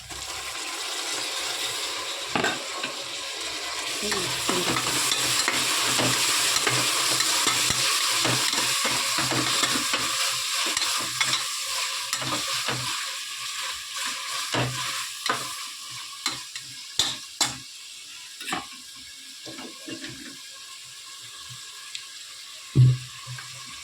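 Chopped onions and tomatoes sauté in a pan with a loud, steady sizzle that fades partway through, followed by scattered spoon scrapes and knocks against the pan near the mic.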